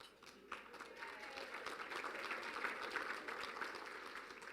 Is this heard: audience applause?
yes